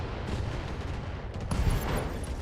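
Heavy weapon fire from mechs in the Battletech game, a rough rumbling barrage of shots and impacts that swells to a louder burst midway and stays dense, with no talk over it.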